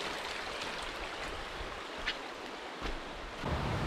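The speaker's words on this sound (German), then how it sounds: "Kleine Bäche." Small forest streams in Nelson Lakes National Park, New Zealand, give a steady, fairly quiet rushing and trickling of water with a few brief splashes, no voices.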